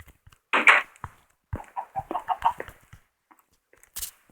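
Chickens in the Minecraft video game give a few short, close clucks and squawks in quick bursts, separated by near silence.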